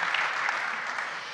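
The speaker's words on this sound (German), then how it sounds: "Ja, Applaus dafür." A brief burst of audience applause at a panel discussion in Germany, dense steady clapping from a hall crowd.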